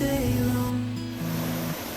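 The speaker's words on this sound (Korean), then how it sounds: "암반 위로 흐르는 물소리가 시원합니다." Water runs over bedrock in Gapyeong's Yongchu Valley, a steady broadband rush with low tonal hum layered beneath it, close and continuous throughout.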